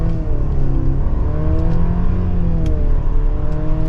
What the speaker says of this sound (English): so we will give it another acceleration here